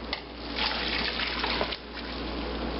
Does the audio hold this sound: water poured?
yes